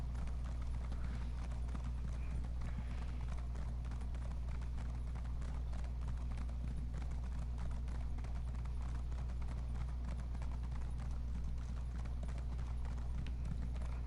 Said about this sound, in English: Returning to Balmora on my faithful steed.